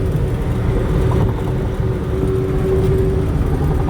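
A Claas Dominator 38s combine harvester runs steadily during a buckwheat harvest, its loud engine a continuous low rumble and whir heard from the cab, with no talk.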